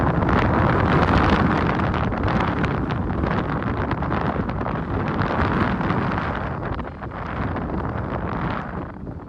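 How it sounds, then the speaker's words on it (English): Wind gusting to 66 mph at Bowden Springs fishery roars and buffets the microphone continuously, a loud broadband rush that surges and eases slightly with no voices. "this day started off incredibly windy"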